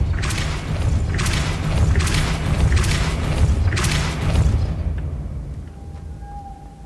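Depulso spell impacts in Hogwarts Legacy come as a run of deep, booming thuds over a steady low rumble, loud and repeated, then fading to a quiet tone near the end.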